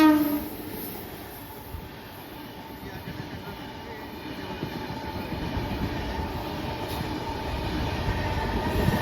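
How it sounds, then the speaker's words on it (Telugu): A MEMU express passenger train running on rails near Kodavaluru, a faint, steady rolling rumble with soft wheel clatter and a brief horn-like tone at the start. "ట్రైన్ వచ్చేసి కొడవలూరుకి అయితే వచ్చింది"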